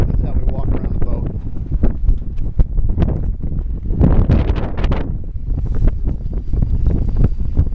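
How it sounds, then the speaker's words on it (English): Heavy wind buffets the microphone on a boat, a constant low rumbling roar with gusty surges, while a voice speaks faintly underneath. "you're never going to be able to hear this because of all the wind"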